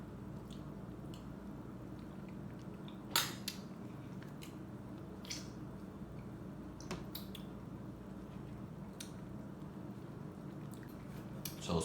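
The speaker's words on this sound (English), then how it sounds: "So you just keep scooping it out as you go" A metal spoon scoops the soft flesh out of a ripe pawpaw, making faint, quiet wet squishes with an occasional sharper click of metal against the fruit.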